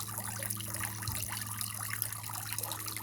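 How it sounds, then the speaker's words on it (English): A garden fountain trickles water steadily outdoors, a soft continuous splashing and dribbling at moderate distance, with a low mechanical hum beneath and no one talking. "Yep, the fountain needs more water."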